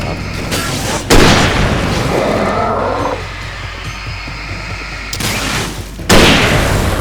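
A flashbang goes off in the video game Alan Wake, heard as a loud booming burst, with a second heavy blast near the end over continuous game noise.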